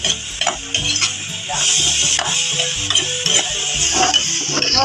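Ground meat and string beans are stirred together in a frying pan, with a steady sizzle under repeated scraping and clinking of a utensil against the pan, close and continuous throughout.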